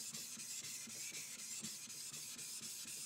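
Japanese kanna plane blade rubbed on a whetstone with clear water, a steady rhythmic scraping of repeated strokes, close and fairly quiet, with no talk.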